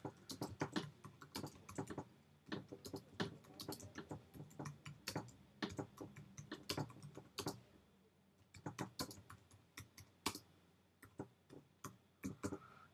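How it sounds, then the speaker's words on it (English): Rapid typing on a computer keyboard while filling in an opt-in form, a steady stream of close, crisp key clicks with uneven bursts and short pauses, and no voices. "you can type in anything you want, basically."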